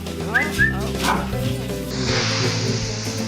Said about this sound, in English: YouTube little puppies, funny puppies and puppy videos